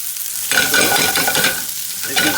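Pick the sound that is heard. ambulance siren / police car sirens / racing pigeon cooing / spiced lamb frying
spiced lamb frying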